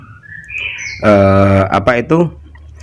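A green leafbird from Mount Merapi, Java, sings a rising series of clear whistled notes, then a loud harmonic call with sharp chirps close to the microphone.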